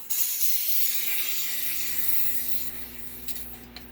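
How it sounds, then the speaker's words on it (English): Air hisses steadily out of a PCP air pistol tank as it is bled, a loud broad rushing hiss up close that eases off slightly toward the end. "bleed your tank."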